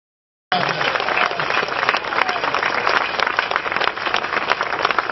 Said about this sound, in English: I'm going to ask one more round of applause for everybody who's had anything to do with this terrific project